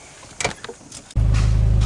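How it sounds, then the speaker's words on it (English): A 2015 Chevy Sonic being turned on: soft clicks and rustles inside the cabin, then at once a loud, steady low hum and drone as the car powers up and keeps running. "Alright, just turned the car on."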